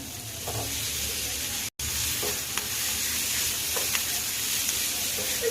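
Fish sizzling and hissing in a pan as it is sautéed with onion, tomato and curry leaves, a steady bright frying sound with a brief cutout and occasional stirring clicks.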